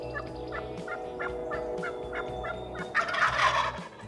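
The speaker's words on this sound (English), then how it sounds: "everywhere we went, we had gobbles coming from different directions" Wild turkeys gobble repeatedly in Missouri spring woods during a hunt, a steady series of calls at moderate distance, joined by a louder gobble near the end.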